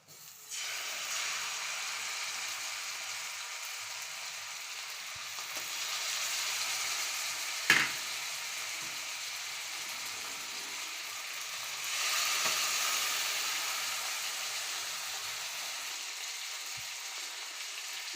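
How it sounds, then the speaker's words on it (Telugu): Fish fries in melted butter in a pan with a continuous hissing sizzle that swells and eases, broken by a single sharp clink partway through, with no talk. "ఇప్పుడు ఫిషెస్ని వేసుకుందామండి"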